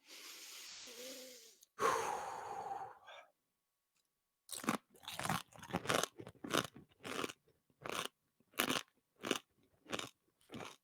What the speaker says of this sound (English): Get ready for the crunch going in.